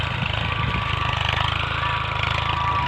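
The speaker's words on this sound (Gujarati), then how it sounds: "જો હેડમાં ચાલુ જ છે ટ્રેક્ટર" A tractor engine runs on a farm field during ploughing, a loud, steady, close chugging idle that throbs rhythmically without pause.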